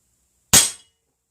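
A single sharp crack from an air gun firing a PDG bullet destroyer pellet at a target, loud and close, with a quick decay into silence.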